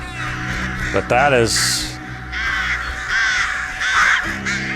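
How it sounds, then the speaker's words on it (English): Crows caw several times at moderate distance, harsh calls rising over a voice that keeps talking throughout. "Who controls the crows?"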